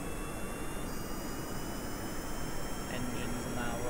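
Rocket engines throttle up for takeoff in Kerbal Space Program. They make a steady, continuous roar at moderate volume that never drops away.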